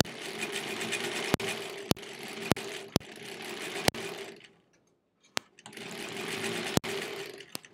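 A sewing machine stitches quilt block pieces in fast, continuous whirring runs, broken by several sharp clicks and one brief pause before it resumes.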